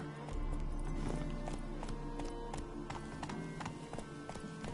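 Hooves of a horse galloping in The Witcher 3, a steady rapid clip-clop rhythm over continuous game music and ambience, running throughout at an even, fairly loud level.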